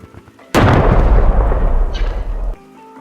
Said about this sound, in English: detonate the bomb